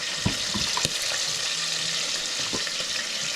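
Sponge gourd sizzles and fries quietly in a pan, with a few sharp clinks and scraping stirs of a utensil against the cookware.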